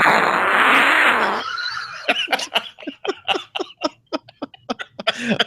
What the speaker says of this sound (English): Plays the ultimate fart soundboard. The ultimate fat soundboard. Ooh, slide trombone. Let me see how that one sounds.